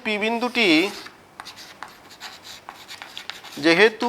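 Writing on a board during a Class IX maths lesson: faint, scratchy strokes sit between stretches of a teacher's talking, which is louder at the start and end.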